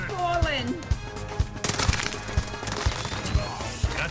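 A video game gun fires in a steady rhythm of punchy shots about every half second, layered with other game effects and a rising whoosh, while people talk over it.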